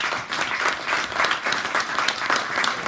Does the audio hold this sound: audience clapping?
yes